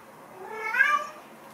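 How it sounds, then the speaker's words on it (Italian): A house cat meows once, a drawn-out, rising and falling "singing" call, close and moderately loud against a quiet room. "Tanto c'è il mio gatto che canta."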